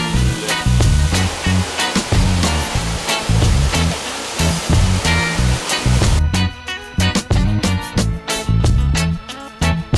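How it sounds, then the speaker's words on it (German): The waterfalls at the Laubmühle roar in a loud, continuous rush of falling water that fills the whole stretch, with pulsing surges throughout. "Wasserfälle an der Laubmühle."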